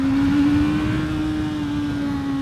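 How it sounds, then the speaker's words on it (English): A 2024 Honda CBR650R motorcycle engine held high in its rev range on a test ride gives a loud, steady, whining drone that barely changes pitch throughout. "it's not a pleasant engine to be revved out all the way up like this"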